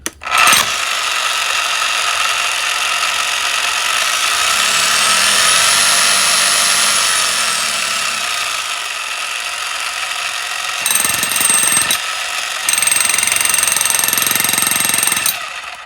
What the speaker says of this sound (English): Guessing this is hammer drill.